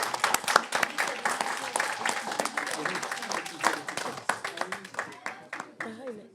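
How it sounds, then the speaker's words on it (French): A room audience claps for young people after their project presentation, sharp individual hand claps forming a lively round of applause, with voices calling out over it near the end. "Et applaudissements pour les jeunes"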